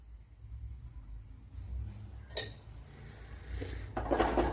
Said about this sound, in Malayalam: എന്നിട്ട് നല്ലപോലെ ഒന്ന് എല്ലടം ഒന്ന് യോജിപ്പിച്ച് കൊടുക്കുക